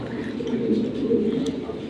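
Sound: pigeons cooing

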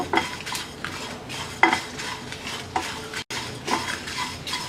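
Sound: whole spices with fennel frying lightly in a pan

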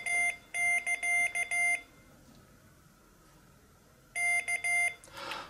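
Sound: Morse code Vs beeped by Morserino-32 trainer

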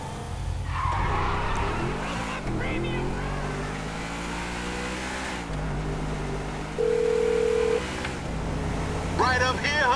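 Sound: phone dialing tones in GTA 5 video game

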